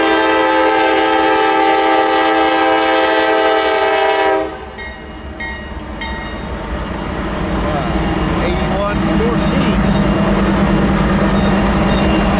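A Norfolk Southern heritage locomotive blows a loud, sustained chord horn, which cuts off after about four seconds and gives way to the rumble and clatter of the train passing close by.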